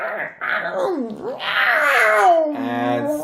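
A person imitates a cat with drawn-out meows and yowling wails, rising and falling in pitch, loud and close, in several bursts over about three seconds.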